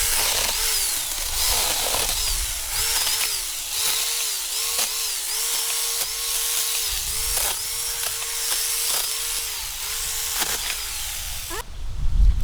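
A Huing mini chainsaw cutting through PVC pipe: a loud, close buzzing whine that dips and bogs down rhythmically as the chain bites into the plastic, repeating over a dozen strokes before ending abruptly.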